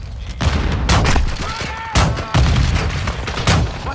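Sharp gunfire bursts in Call of Duty Modern Warfare 2, several loud cracks and booms in quick succession with radio-style voices in between.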